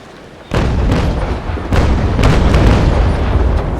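Brig's cannons firing in the Naval Action naval game, loud deep booms starting suddenly and rolling on in several overlapping blasts with rumbling tails.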